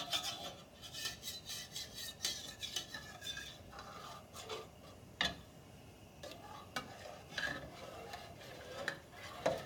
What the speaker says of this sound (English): So we're just scraping all those bacon bits from the bottom of the pan.